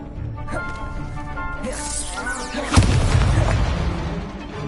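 A Confringo spell in Hogwarts Legacy sets off a loud booming explosion that bursts in suddenly and rumbles on, following a whooshing cast, with game sound effects and music underneath.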